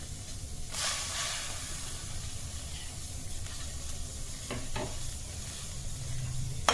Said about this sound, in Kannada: ಇದನ್ನು ನಾವು ಇವಾಗ ನೀಟಾಗಿ ಇದನ್ನು ಹುರಿಯೋಣ